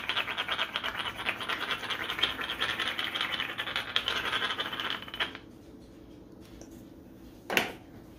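Salt crackling out of a grinder onto a home-cooked dinner, a steady loud gritty scraping for about five seconds, then a stop with one brief scrape near the end.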